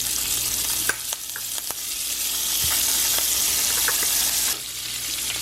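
Butter sizzles loudly in a pan with rosemary, thyme and garlic while being basted alongside pan-fried salmon, a steady broadband hiss broken by a few spoon scrapes and clinks, no voices.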